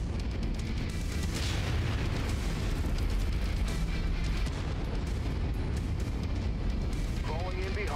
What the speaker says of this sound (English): I'm also going to step on this artillery piece real quick.